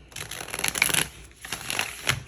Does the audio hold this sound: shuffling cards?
yes